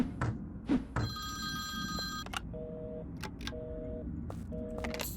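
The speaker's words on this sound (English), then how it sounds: "Someone shut up those phones, please." Video-game telephones ring in repeated electronic bursts, several overlapping rings with short gaps against a low background rumble, and no speech.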